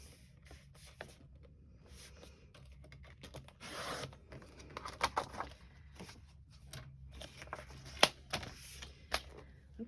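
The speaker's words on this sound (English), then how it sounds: "I'm going to cut off the branding strip." A paper branding strip is cut off a sheet for a mixed media craft piece, giving quiet, crisp clicks and rustles in an irregular, close-up sequence with no talking.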